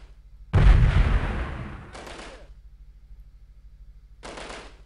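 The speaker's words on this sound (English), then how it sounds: "How did you survive that grenade blast, huh?" Gunfire and blasts in the video game Delta Force, Uzbekistan mission: a loud, sharp burst that decays over about a second and a half, followed by two shorter, quieter bursts against a low rumbling background.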